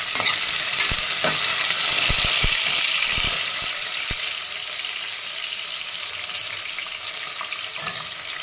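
Four finely chopped onions with green chillies fry in a pan for a simple vegetable rice. A loud, steady sizzle fills the sound close by, punctuated early on by sharp clicks of stirring against the pan.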